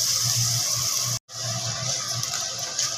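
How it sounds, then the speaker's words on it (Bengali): Water gushes steadily into a pan of potato and cauliflower curry with whole green chillies, a close, continuous pouring hiss with a short break midway. "এবার দিয়ে দেওয়া হচ্ছে এর মধ্যে জল।"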